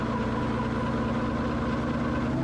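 An ELA 07 gyrocopter engine near 3000 rpm, with the rotor prespun, holds a loud, steady droning roar with even throbbing harmonics and no pauses.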